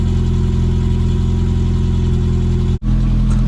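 Citroen AX small car engine running at a steady idle with a strong low hum and even pulsing, briefly cutting out near the end before the engine note resumes.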